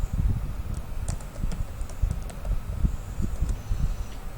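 Education details for a CV are typed on a computer keyboard in a dense, continuous run of close keystrokes with an uneven rhythm.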